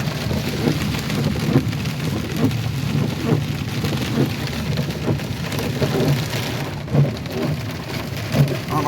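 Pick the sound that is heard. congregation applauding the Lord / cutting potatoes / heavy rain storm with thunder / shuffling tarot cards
heavy rain storm with thunder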